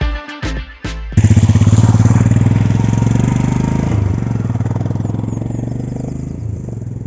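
A Royal Enfield Himalayan motorcycle engine fires up and runs loud and close, a steady throbbing rumble while riding, after a few brief knocks and clunks at the start.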